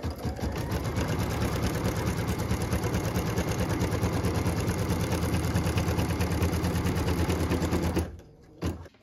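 An embroidery sewing machine stitches a tack-down line on a quilt piece, a loud, fast, continuous mechanical needle rattle running steadily for about eight seconds before stopping abruptly.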